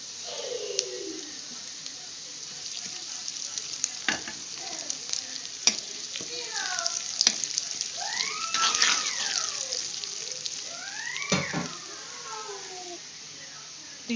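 Cumin seeds fry in a little oil in a hot kadai, giving a close, crackling sizzle with scattered pops and scraping stir strokes that grow busier midway. Some voice-like sounds come through faintly in the background.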